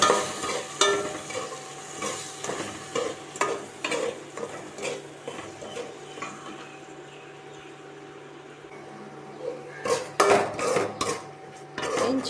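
A ground spice paste with ginger and garlic is sautéed in a pan, with soft sizzling under repeated scraping and stirring knocks of a utensil against the pan, louder clattering near the end.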